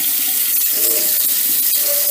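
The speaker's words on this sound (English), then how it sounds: "So I'm just rinsing it with hot water, so I can't really touch it." Hot tap water runs steadily into a sink while dyed embroidery floss is rinsed under it, a close, continuous splashing hiss with small shifts as the thread is moved.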